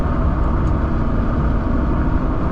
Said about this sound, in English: I was recording the sounds of the car